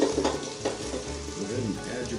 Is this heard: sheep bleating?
no